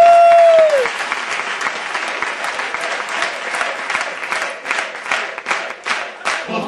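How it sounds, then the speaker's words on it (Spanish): A large theatre audience at an improv comedy show breaks into sustained, dense applause and cheering after a brief tone, the clapping steady and loud throughout. "Ovación Argentina."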